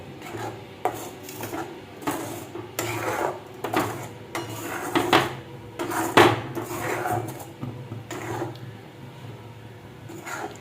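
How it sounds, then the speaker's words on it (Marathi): Grated coconut stirred into sugar syrup in a pan, heard as uneven bursts of scraping and rubbing from a spoon against the pan, with occasional clinks, close and moderately loud, no voices. "आता चव टाकून आपण हे छानपैकी मिक्स करून घेऊ."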